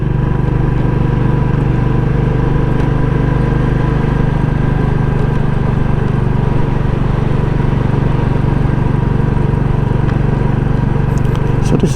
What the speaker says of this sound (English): So this is currently a third gear chug